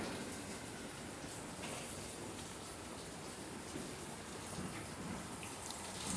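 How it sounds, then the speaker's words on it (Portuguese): Steady rain falls at night around a city bus stop in Curitiba, a dense, even hiss of drops hitting surfaces that continues unbroken and fairly loud throughout. "Tá chovendo."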